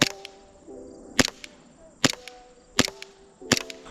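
An airsoft pistol fires BBs one-handed, five sharp, close snapping shots spaced roughly evenly apart, with quiet pauses between them.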